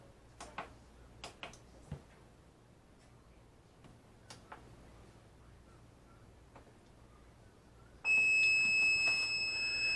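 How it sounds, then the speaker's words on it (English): A crock pot beeps while being programmed: faint ticks and clicks come first, then a steady, high electronic tone sounds close by and holds to the end. "see, hear that beeping?"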